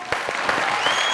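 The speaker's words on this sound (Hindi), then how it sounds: "ताली" Loud audience applause at a comedy show, a brief dense burst of many hands clapping heard close and steady for about a second.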